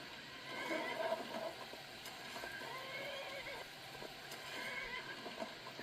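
A horse in the video game Skyrim neighs and whinnies amid busy game sounds, with hooves clip-clopping faintly under the steady ambient noise.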